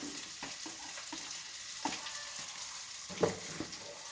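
Onion fries in oil in a pan with a faint, steady sizzle, broken by a few soft stirring knocks, heard close and quiet.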